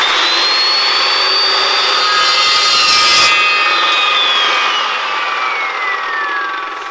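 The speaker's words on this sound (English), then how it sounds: "it's crazy how I've lived without this saw. It does throw some chips, but she cuts." An Evolution saw cuts through cast aluminum, giving a loud, steady high-pitched whine with a grinding bite as the blade works through the metal, swelling midway and easing off toward the end.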